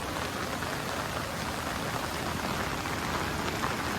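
Heavy rain pours down steadily during flooding at Yseleta Bayou, a dense continuous hiss of drops hitting surfaces with no pauses.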